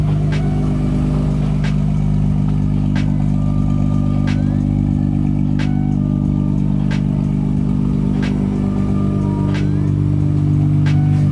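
An older Honda car engine idles steadily up close, a loud continuous low rumble with faint regular ticking on top.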